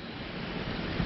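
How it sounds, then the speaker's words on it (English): Steady, loud wind blowing outdoors on a very windy day, a continuous broadband rush buffeting the microphone with no talk over it. "If you hear the wind blowing in the background, it is a very windy day today."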